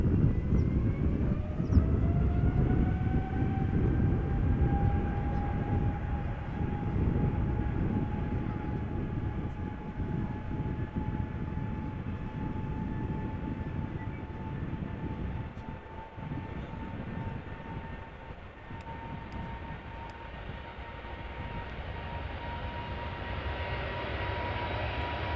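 An Emirates SkyCargo Boeing 777 freighter rumbles at Amsterdam Schiphol, a continuous engine roar with a rising then steady turbine whine, moderately near and sustained throughout, with no talk.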